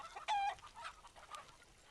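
A mother hen and her chick give a brief, clear clucking call near the start, followed by faint, softer clucks over quiet background.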